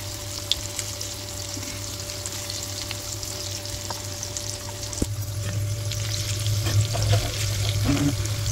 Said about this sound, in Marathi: बघा मी असे चुरण फ्राय करून घेते